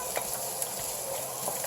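Onions are stirred in hot oil with garlic, a steady sizzle and fry under soft scraping of the pan, close and constant with no talk.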